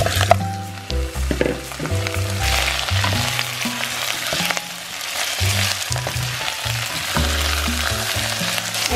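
Meat sizzles in a hot pan with ginger, a loud continuous frying hiss broken by repeated scraping and stirring bumps close by.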